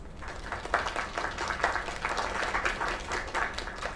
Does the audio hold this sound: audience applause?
yes